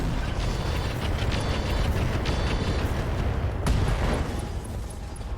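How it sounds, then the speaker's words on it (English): An ammo explosion in the mech combat game RogueTech: a dense, sustained rumble of booming blasts with a sharper burst near the end, loud and alone with no talk. "Okay, that's an ammo explosion."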